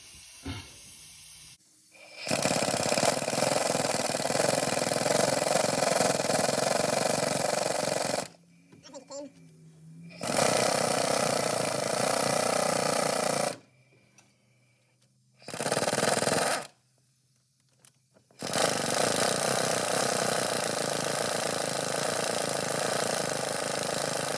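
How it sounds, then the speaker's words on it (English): An air impact wrench works on the cooling system of a 1969 Buick Skylark, running in several long, loud, whirring bursts separated by short pauses. "I'm gonna shoot the impact on it."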